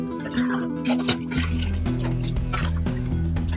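Water poured into a container, three litres measured out, giving a continuous gurgling, rising liquid fill with bubbly tonal ripples, close by and steady for several seconds.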